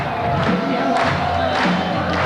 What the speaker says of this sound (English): Well, the crowd on their feet here.